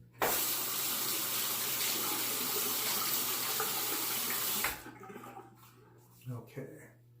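Water from a tap runs steadily and loudly over a Wilkinson Sword two-piece safety razor being rinsed in a sink. It cuts off after about four and a half seconds, leaving faint handling clatter.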